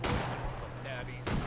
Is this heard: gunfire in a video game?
yes